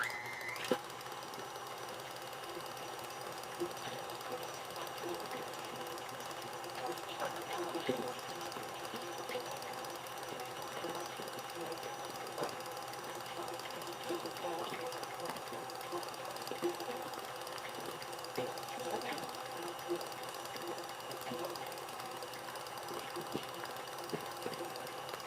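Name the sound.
mixer beating chocolate fudge frosting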